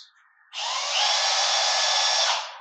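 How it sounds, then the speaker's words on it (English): A drill press whirs up and runs at steady high speed for a couple of seconds, loud and close, after a brief faint lead-in. "I should put it in the drill press."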